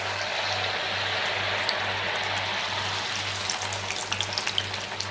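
Corn-flour kombadi vada frying in well-heated oil in a kadhai, a steady broadband sizzle with a faint low hum and a few small pops near the end, close and unbroken, no voices.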